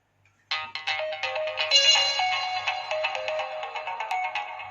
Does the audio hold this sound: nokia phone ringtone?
yes